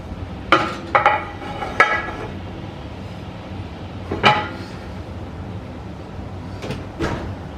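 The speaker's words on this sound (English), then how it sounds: "I'm going to do top rack, and I will put a lid on it." A pot of Brussels sprouts being set on the top rack of an oven and covered with a lid, giving several sharp metallic clanks and knocks with quiet gaps between them, close by.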